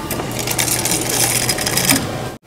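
Ice rattles out of a drink dispenser at a Korean restaurant, a loud, busy clatter of cubes tumbling into a cup for about two seconds before it cuts off abruptly.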